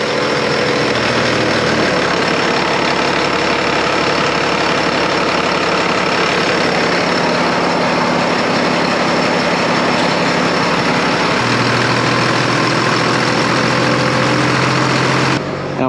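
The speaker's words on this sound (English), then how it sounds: "we're gonna engage the drive shaft and we're gonna start sucking up water out of the ground" A tractor engine on a farm drives the shaft of an irrigation pump drawing groundwater, a loud, steady mechanical drone and rumble that shifts slightly in pitch partway through, continuous with no gaps.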